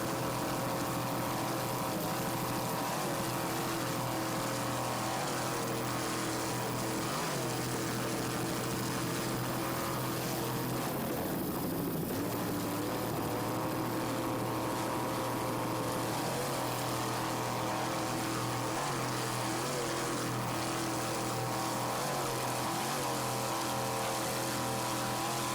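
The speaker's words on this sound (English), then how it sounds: "Just listen to that 390 horsepower Mercury inboard." Racing powerboat powered by a 390 horsepower Mercury inboard engine at the Islamorada Budweiser 100, a loud, steady engine drone with throttle shifts and water rush, sustained throughout without talk.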